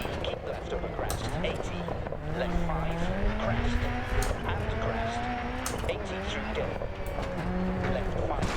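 Engine of a rally car in a racing video game, driven hard on a sim wheel with tarmac-style GT3 pacing, whining and shifting pitch steadily throughout with tire noise, loud and continuous.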